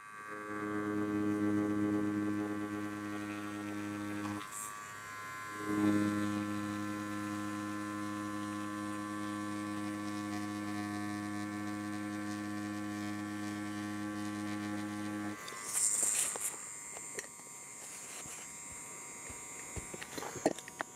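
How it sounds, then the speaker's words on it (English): Yilong tattoo machine running at 8 volts with a 7-round liner, a steady electric buzz with one brief cut-out, then stopping into faint handling noises. "I'm still at 8 volts running with a 7-round liner."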